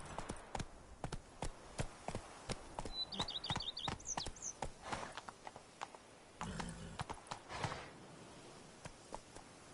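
Roach the horse in The Witcher 3 clip-clops along in quick, crisp hoofbeats, close and moderately loud, with a brief jingling chime partway through and no speech.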